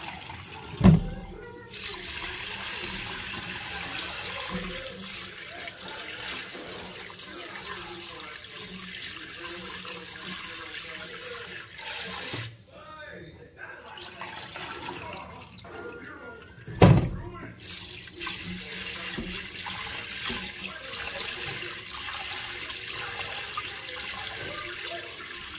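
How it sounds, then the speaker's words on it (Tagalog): Tap water runs steadily into a sink while mung beans are rinsed, a continuous close splashing stream with two brief louder knocks, and a voice talking over it. "Kailangan nyo guys hugasan yung munggo kasi meron dyan yung parang hindi na magandang klase."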